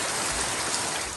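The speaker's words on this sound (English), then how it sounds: "Water gushes out of the drains, which the couple say are blocked" Water gushes from blocked street drains during rain, a dense, steady rushing splash that fills the scene without pause, close and loud with no voices.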